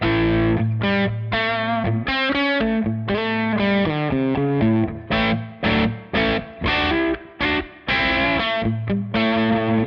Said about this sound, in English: those are some tones I did in the past based off my incredible Bad Cat Cub 5 hand-wired combo